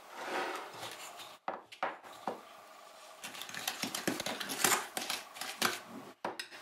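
Butter and sugar, with vanilla sugar, being creamed together in a bowl for coconut cookies, giving irregular scraping and knocking strokes of a utensil against the bowl, close and fairly quiet, with brief pauses.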